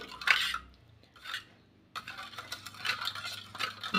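Shankarpali dough being mixed with warm milk and powdered sugar in a bowl, with scraping and clinking of a utensil against the vessel in irregular bursts, close and moderately loud.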